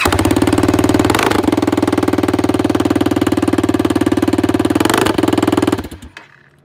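Motorcycle engine running with no exhaust pipe fitted, a loud, raw, rapid-firing idle that stays steady with a couple of brief revs before cutting off near the end, close and alone.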